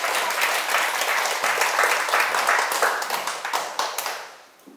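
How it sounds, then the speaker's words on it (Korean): Audience applause at a Sunday lecture hall, a dense wash of hand claps that holds steady and then breaks into scattered individual claps as it fades out. "그분에게 박수 한번 보내주세요."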